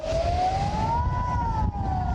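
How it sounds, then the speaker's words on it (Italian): A siren sounds loud and steady, its single wailing tone rising slowly, holding, then dipping slightly, over a low rumbling background. "Nel frattempo suona la sirena, non sappiamo cosa stia accadendo e perché stia suonando la sirena."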